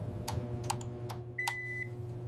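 Elevator floor button being pressed: a few soft clicks, then a short electronic beep, faint over a steady hum inside the elevator car, no voices.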